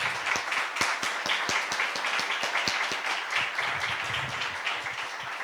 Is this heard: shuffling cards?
no